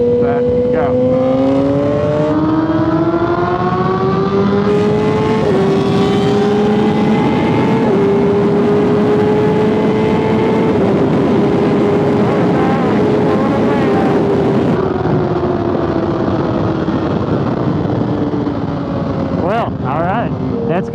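A 2017 Honda CBR1000RR sport motorcycle pulls hard with a loud, close engine whose pitch climbs, drops at a gear change, then holds high and strained at full revs over wind noise.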